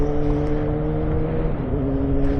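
A Yamaha R6 sport motorcycle with a Yoshimura full exhaust drones steadily at high revs with a loud, throaty exhaust note, sustained and close without a pause, on the interstate.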